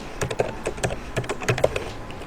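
Rapid typing on a computer keyboard, a close run of light, uneven clicks and key taps with no voice.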